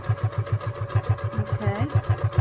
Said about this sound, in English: put it under your sewing machine, and you're literally just going to sew on that line that you just marked